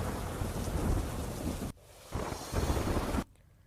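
Heavy monsoon rain pounding down in the Dharampur and Kaprada area of Valsad, a dense roaring downpour with low rumbling, cut off abruptly twice in short bursts.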